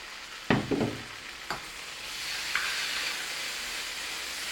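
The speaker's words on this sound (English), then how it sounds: "now we turn off the heat and we add just 2 or 3 spoons of our pizza sauce" Two or three spoonfuls of pizza sauce hit a hot pan with the heat just switched off, making a few sharp splats followed by a soft, fading sizzle and steamy hiss.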